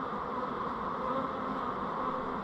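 A steady, continuous buzz of many honey bees in flight as they leave a box, close by and unbroken throughout, with no talking.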